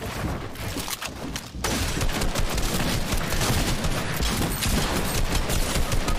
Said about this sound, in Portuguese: Ah, Zugor, um tiro